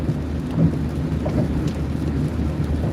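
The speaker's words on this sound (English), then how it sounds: "it's raining" Rain drumming steadily on a vehicle while crossing the old Missouri River bridge, a dense continuous wash of drops over a low road rumble, close and moderately loud throughout.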